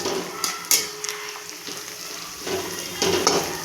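Chopped onion, coriander and turmeric sizzle in a pan while a spoon stirs them, giving a steady hiss with scraping clinks. A faint voice is heard in the background.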